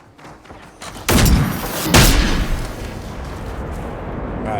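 Gunfire in the game Generation Zero: two loud, booming shots about a second apart, each ringing out into a long rumbling tail over low ambient noise.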